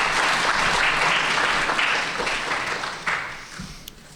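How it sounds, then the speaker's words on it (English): A quiz bowl audience claps in a full burst that holds strong at first and then tapers off gradually over several seconds. "Let's have a round of applause for them on these individual ones."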